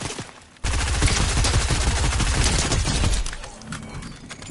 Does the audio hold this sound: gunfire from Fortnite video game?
yes